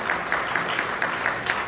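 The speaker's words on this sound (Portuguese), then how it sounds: "Quero uma salva de palmas para Mariana." A church congregation at an Adventist service in New Jersey claps in a fast, even rhythm. The crowded claps blend into a steady, moderately loud wash of applause.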